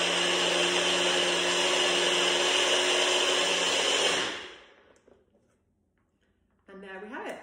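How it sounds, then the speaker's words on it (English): A bullet blender whizzing a coconut milk smoothie, a loud steady motor whine close by for about four seconds that then spins down to silence, followed by a short burst of talk. "I'm just going to pop it onto the bullet and whiz it all together"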